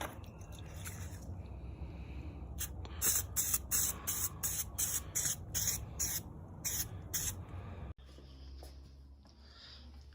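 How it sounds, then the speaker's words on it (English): Red air filter oil sprayed from an aerosol can onto Porsche air filters in a garage, a run of quick sharp hissing bursts in a loose rhythm, close and fairly loud, then a softer handling noise. "So we're gonna get our red stuff, and you're gonna spray the inside and the outside of each one"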